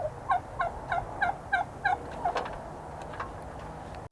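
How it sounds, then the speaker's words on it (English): A turkey gobbles in a quick series of about seven rattling calls at a steady rhythm, then trails off, moderately distant over faint background noise. "Putting on a show for the camera."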